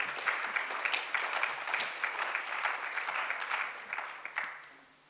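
An audience applauds with sustained clapping that holds steady for several seconds, then thins out and fades away.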